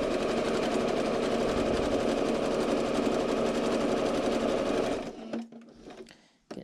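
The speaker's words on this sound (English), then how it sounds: "Turn the sewing machine on." A sewing machine stitches over elastic on a homemade fabric face mask with a nose piece, giving a steady, close mechanical whir for about five seconds. It then stops, leaving a few soft handling noises.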